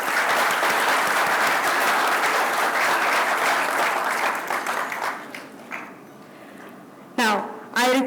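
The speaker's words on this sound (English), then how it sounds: "Please give a big round of applause." Audience applause greeting dignitaries at a Jio True 5G launch event: loud, dense clapping for about five seconds that thins out and fades, followed by a voice speaking over the quiet.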